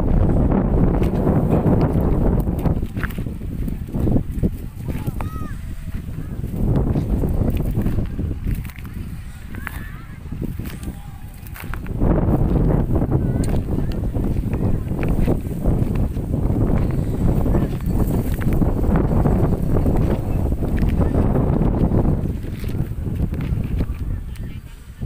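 Strong wind blows outdoors on a summer day of wading in water, a loud, continuous low rumble buffeting the microphone in gusts, easing briefly around the middle, with indistinct voices faintly underneath.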